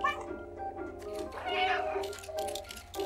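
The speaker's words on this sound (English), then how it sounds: "can I turn this off with my meow?" A cat meows in the video game Stray, a few close, drawn-out meows in quick succession, loud and clear.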